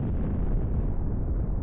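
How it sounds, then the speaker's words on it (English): In the Halo 2 video game, the ship Malta is destroyed in a huge explosion, a loud, sustained, rumbling blast with a deep roar that slowly fades. "only to watch the Malta get destroyed."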